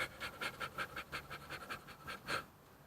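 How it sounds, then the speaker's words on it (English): Rapid, rhythmic panting breaths, about ten quick puffs in a steady beat, close and fairly soft, practiced as speed breathing to release pain. "speed breathing, like"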